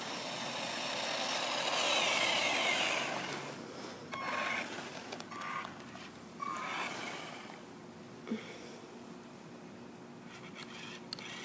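A GP Toys S912 RC car runs at full throttle while racing a van outdoors, giving a high electric whine that swells early and then fades into steady broadband road and traffic noise, with scattered short bumps.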